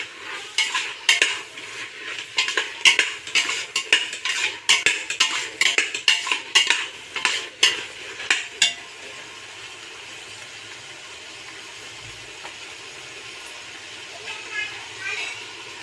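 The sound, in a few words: stirring mushrooms into biryani in a pot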